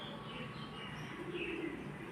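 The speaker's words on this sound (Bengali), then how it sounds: "পায়রাটা।" A pigeon sitting with its young coos softly and low, a faint brief call heard close by over a quiet background.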